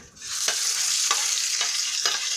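Minced meat frying in a little oil in a pan on the heat, a steady close sizzle with a few short stirring scrapes at regular intervals.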